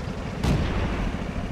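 A single heavy tank cannon shot in World of Tanks, one deep booming blast with a rumbling tail over a steady engine drone.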